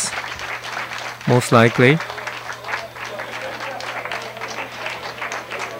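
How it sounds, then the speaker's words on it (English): A large round of applause fills the Hayabusa2 mission control room during a touchdown rehearsal, a continuous crowd-clapping texture under a brief spoken remark from a nearby voice. "In the control room, we're seeing a large applause"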